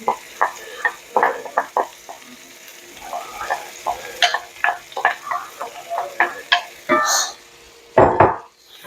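Minced garlic and ginger frying in a pan for a lamb vindaloo, with sizzling bursts and stirring scrapes against the pan, alongside a few louder clanks of utensils, close and uneven.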